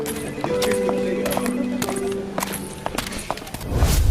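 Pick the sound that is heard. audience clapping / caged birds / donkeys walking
donkeys walking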